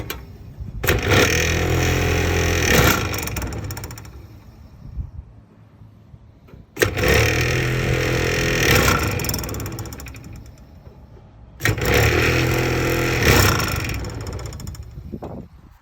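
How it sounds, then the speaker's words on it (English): A Spintech deer feeder spinner motor, sprayed with brake cleaner after a flood, whirs and rattles in three loud bursts of several seconds each, separated by quieter pauses. "There's our spinner mechanism with the spinner motor on it."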